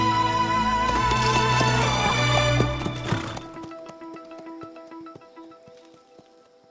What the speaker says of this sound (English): So I finally get to ride a horse.